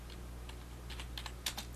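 Quiet keystrokes on a computer keyboard as a sudo apt-get Linux command is entered: a few short, scattered clicks, with a small cluster near the end, faint against a steady background hum.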